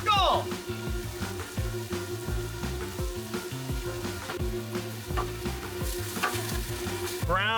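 Onions fry on a hot flat griddle for a cheesesteak, a constant sizzle under rhythmic metal spatula scraping and clacking, with a steady low hum and occasional voices in the background.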